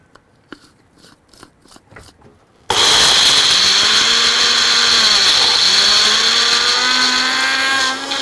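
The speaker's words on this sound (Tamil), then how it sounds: "இதை வந்து நம்ம எடுத்து அரைச்சிக்கலாம்." An electric mixer grinder grinds pepper and spices for bajra kuzhi paniyaram. Some light tapping and handling come first, then the motor starts abruptly and whines loudly and steadily at close range, alone.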